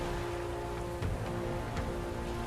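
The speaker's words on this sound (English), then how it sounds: "The rain remains as unpleasant and oppressive as ever" Steady rain falls in the Metaphor: ReFantazio video game, a dense continuous hiss of drops on surfaces with a low rumbling bed beneath, no voices present.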